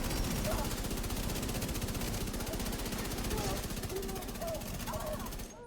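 A light machine gun fires continuously in The Division 2, a dense, steady stream of rapid shots running for several seconds, loud and close, with faint game effects scattered underneath.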